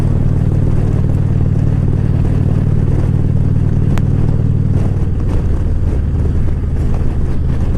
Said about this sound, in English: can you see the leaves whipping and hear the wind?